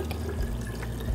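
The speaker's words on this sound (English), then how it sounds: "So you just pour the boiling water" Boiling water pours into a thick glass pitcher for iced tea, giving a continuous, close, gurgling splash with a soft, even liquid rush.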